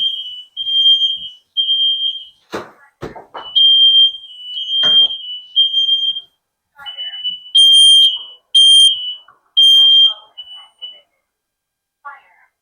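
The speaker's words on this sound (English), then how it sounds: "This silly smoke detector that we got is overly sensitive." An overly sensitive home smoke detector sounds in a kitchen during cooking, with repeated loud piercing high beeps in bursts, close by, interrupted by a person's speech and some clattering.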